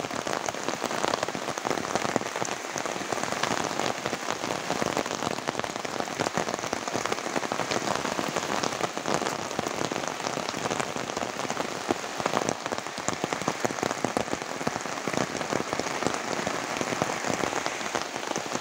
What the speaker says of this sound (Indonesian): Tuh pemirsa, hujan sangat deras sekali nih.